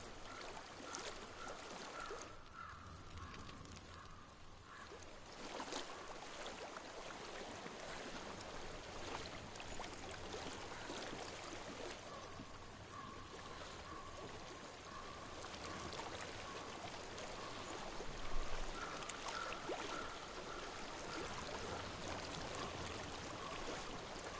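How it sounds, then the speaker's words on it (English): Flowing water in the game Hellblade: Senua's Sacrifice, a steady, soft trickling stream that runs continuously under a faint ambient tone. "I hear water."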